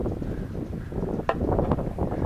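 Gusty wind blowing outdoors at a camp cooking spot, a steady broadband rush battering the microphone throughout with a few sharper gust peaks, no voices.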